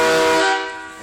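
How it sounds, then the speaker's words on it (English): Air horns mounted on a school bus blast a loud, steady chord of several held tones that fades somewhat toward the end of the second-long burst, with no talk over it. "there's the air horns"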